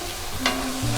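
Beef croquette filling, seasoned with pepper and green onion and nearly dry, is stirred in a hot pan: a short burst of scraping and soft sizzle, close and steady, with no talking.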